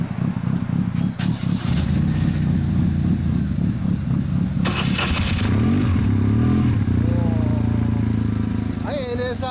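A 1996 Honda NSR250R two-stroke motorcycle with a stock exhaust starts and runs, its engine clattering and buzzing steadily close by, with a brief rev toward the end and voices talking over it.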